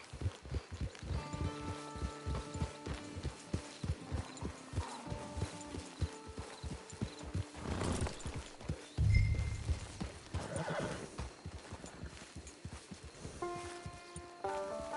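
Horse hooves clip-clop in a steady walking rhythm in Red Dead Online, fairly quiet, with a brief snort or whinny midway and soft ambient background.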